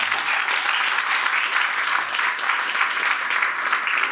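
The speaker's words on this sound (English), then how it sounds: "Come on, let's clap hands for Pam Nelson." An audience at a book launch applauds for Pam Nelson with steady, dense clapping from a full room that holds evenly throughout.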